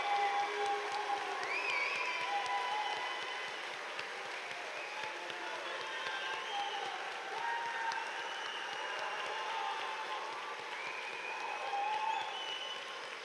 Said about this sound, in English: All right, a big round of applause for all of our bachelor's graduates.